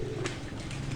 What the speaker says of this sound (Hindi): इन्हीं ब्रीडर परिंदों जो ब्रीडर कबूतर जो आपको दिखाए जा रहे हैं